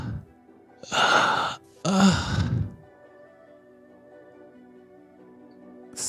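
A voice imitates wispy, painful breathing with two long, strained breaths, one drawn in and one pushed out like a groaning sigh, each about a second long and close to the mic, followed by quiet room hum.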